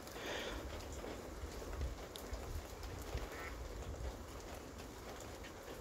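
Ducks quack among reeds in the rain on a nature walk: scattered quacks, moderately close, over a constant hiss of rainfall with no voices.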